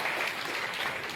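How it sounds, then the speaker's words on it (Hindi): Brief burst of dense audience clapping at a political gathering, loud and steady for about a second with no talk over it. "भाई जोरदार तालियां बजाओ"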